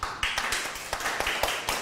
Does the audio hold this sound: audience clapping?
yes